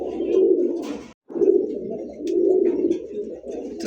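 A large male Pakistani high-flyer pigeon, kept with a female, coos loudly and close by in rolling bursts, with one short break in the middle.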